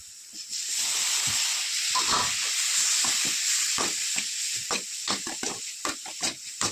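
Tomatoes sizzle as they sauté in hot oil in a pan, a steady bright frying hiss broken by scattered pops and stirring clicks, close and with no talking.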